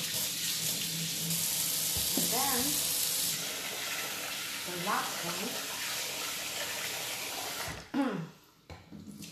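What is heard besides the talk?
water filling a pan of rice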